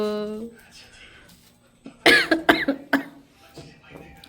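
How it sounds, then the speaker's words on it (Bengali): A brief hum of voice, then a quick run of harsh, dry coughs close by, several sharp bursts followed by a softer one. "শুকনা কাশি"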